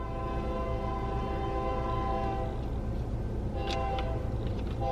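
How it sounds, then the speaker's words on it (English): Train rolling along tracks near an alligator attraction, a steady loud rumble with tonal hum and faint horn-like whine, no talk over it. "And here comes a train too."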